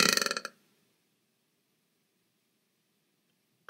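A loud, rapid burp right after drinking soda, a rattling run of short pulses lasting about half a second, then near silence.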